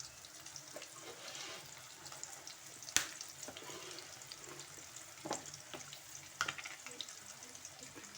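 Asafoetida powder hits hot oil in a pan while cooking plantain fry, giving a quiet steady sizzle and crackle with a few sharp pops and clicks.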